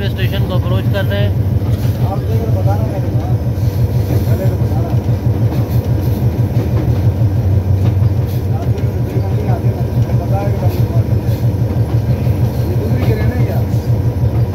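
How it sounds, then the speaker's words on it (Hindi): Pakistan Railway train on the Harnai section in Balochistan, a continuous low rumble and rhythmic rolling clatter of wheels heard from on board, with people talking over it throughout. "आखिरकार नाडीगांव रेलवे स्टेशन के प्लेटफार्म पर हमारी ट्रेन पहुंच रही है"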